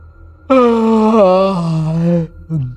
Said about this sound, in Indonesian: menguap lebar